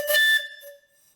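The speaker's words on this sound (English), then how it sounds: "So that's a very simple horn made out of 3/4 pipe fittings." A whistle made of 3/4-inch pipe fittings, blown with compressed air, blasts shrill and loud for a moment with bright overtones, then drops to a softer, lower tone that fades out.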